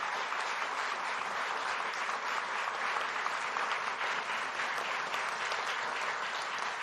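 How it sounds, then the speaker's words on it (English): Sustained applause from a live audience at a Kentucky gubernatorial debate between Governor Beshear and Attorney General Cameron, dense and steady throughout with no break. "Let's give them a round of applause."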